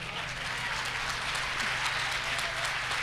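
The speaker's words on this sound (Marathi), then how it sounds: "यापेक्षा जोरदार टाळ्या झाल्या पाहिजेत." An audience at the VEDH Latur 2018 event gives sustained, even applause, a dense wash of clapping that holds steady throughout with no pauses.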